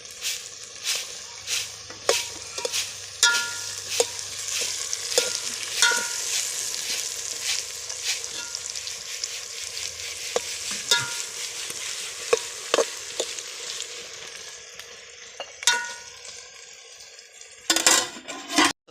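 A pan of frying food with turmeric and salt is stirred, a steady sizzle broken by repeated scraping and clinking strokes of a spoon against the pan, with a sharper clatter near the end.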